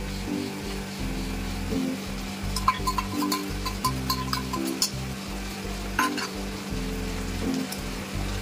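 Onion paste frying and being stirred in a pan for an aar fish curry: a steady close sizzle with scraping stir strokes and clicks, under a low hum, with no talk.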